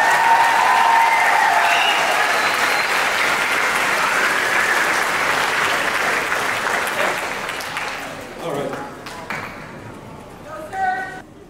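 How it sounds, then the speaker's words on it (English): An audience at a middle school spring band concert gives a loud, sustained round of applause. The clapping fades over the final seconds, and a few scattered claps and faint voices linger at the end. "If y'all can give a round of applause to Sergio San Miguel."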